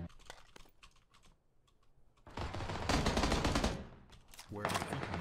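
Tommy gun firing in a video game, a loud dense burst of rapid automatic fire lasting a couple of seconds after sparse clicks, with another burst near the end.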